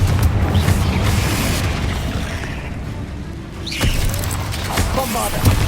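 A Confringo blasting spell in Hogwarts Legacy detonates with a heavy booming explosion over dense game rumble and clatter, loud and sustained with a fresh burst near the end.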